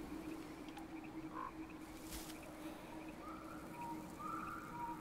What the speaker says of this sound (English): Because this is a frog and that's a leaf